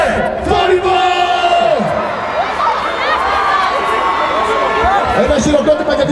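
Dense outdoor concert crowd in a city square, a loud sustained roar of shouting, whistling and cheering with overlapping voices and chatter throughout.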